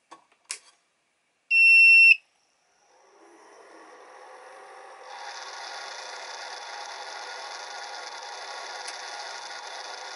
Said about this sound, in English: it may have sort of cooled off enough for you to hear what it sounds like when it's starting up